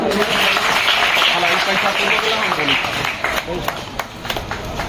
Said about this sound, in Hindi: आप लोग तालियां बजाइए।